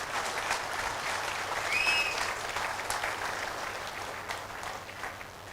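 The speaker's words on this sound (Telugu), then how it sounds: "మరి చప్పట్లు తట్టండి" Steady, dense applause from a seated audience at a public talk on health and diet, sustained and fairly loud throughout with no speech over it, easing off slightly toward the end.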